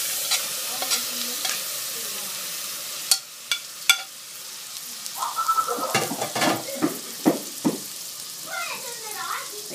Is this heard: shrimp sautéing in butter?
yes